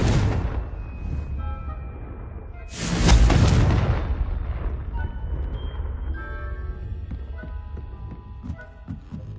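A Confringo fire spell bursts in the Hogwarts Legacy video game, a loud booming blast about three seconds in, set against a steady low game ambience and music.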